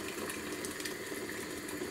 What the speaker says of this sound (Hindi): अब इसके अंदर मैं ये खोलता हुआ गर्म पानी डालूँगा